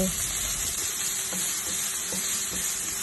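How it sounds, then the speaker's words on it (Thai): Onion and chili frying in oil in a pan, a steady loud sizzle with faint stirring scrapes, heard close and alone with no talk. "จากนั้นเราก็ใส่น้ำมันลงไปเนาะ เอา หอมลงไปผัดก่อนค่ะ หอมกับพริก เนาะ ลงไปผัดก่อน ค่ะ ผัดให้หอมเลย"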